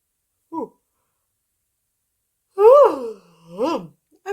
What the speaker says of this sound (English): I'm sorry for the big yawn.